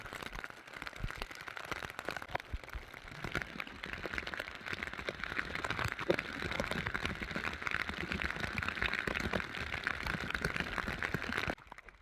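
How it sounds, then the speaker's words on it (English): Steady rain in Wyoming patters continuously on surfaces, a dense even hiss of drops close around, ending abruptly. "And it's still raining."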